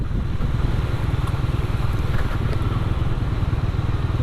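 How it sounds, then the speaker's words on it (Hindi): A motorcycle engine runs steadily at close range while the bike rides carefully through spring water flowing across a mountain road, a continuous loud rumble with rushing noise and no speech. "यहाँ से बड़े एहतियात से बाइक गुजारना पड़ेगा।"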